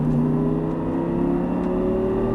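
An Audi R8 engine drones close and loud on a track, its steady tone rising slightly with a strong low rumble.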